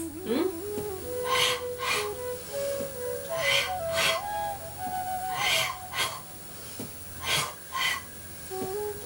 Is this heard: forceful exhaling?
yes